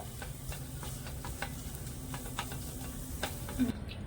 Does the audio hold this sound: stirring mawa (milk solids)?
yes